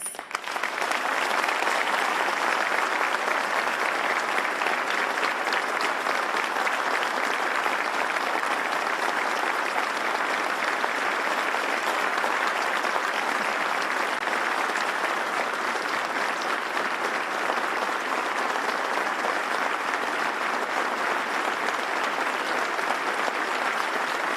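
Audience applause honoring advocates of the 9/11 Victims Compensation Fund at a recognition ceremony, dense continuous clapping that holds at an even level throughout.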